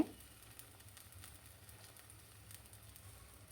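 Onion stirred and fried in a pan for a home-cooked taro, pea and egg curry, giving a quiet, steady sizzle with faint crackles throughout and no voices.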